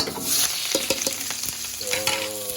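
Onion and garlic dropped into hot oil sizzle loudly and continuously, with utensil clatter and stirring scrapes close up in a home kitchen, no talk.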